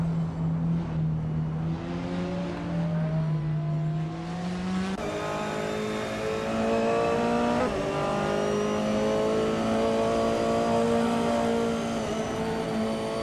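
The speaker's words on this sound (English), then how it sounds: "Leafeon Prime is now in 7th place after overtaking 4 cars" Race cars accelerate and overtake one another during a video game race, engine tones climbing steadily and shifting pitch as several cars pass, loud and continuous with no talking.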